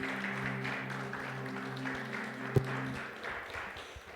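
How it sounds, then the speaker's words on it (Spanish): Congregation in a church applauding the Lord, a steady sustained wash of clapping from many hands over a low held musical tone, with one sharp louder clap standing out midway. "Dale un aplauso al Señor"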